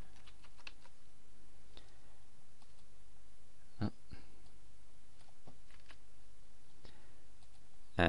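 Sparse, faint keystrokes on a computer keyboard, with scattered clicks spread over several seconds and one slightly sharper tap near the middle.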